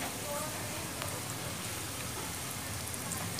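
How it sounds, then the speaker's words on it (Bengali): Samosas sizzle in hot oil over medium heat, a steady, soft crackling hiss that runs faint and continuous throughout. "গরম তেলে আমি একটা একটা করে সিঙ্গারাগুলো দিয়ে"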